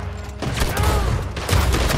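Shotgun fire in Red Dead Redemption 2: heavy, booming blasts in a quick cluster over a continuous dense rumble of game action, loud and close, with no speech on top.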